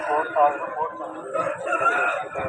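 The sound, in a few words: rooster crowing at fighting-cock market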